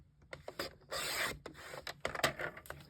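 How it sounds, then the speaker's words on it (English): Card paper being trimmed by half an inch for a handmade zig zag z-fold card, giving close, dry rasping and rubbing strokes with brief clicks, one sustained slide in the middle, no voices. "So I'm going to cut 1/2 inch off."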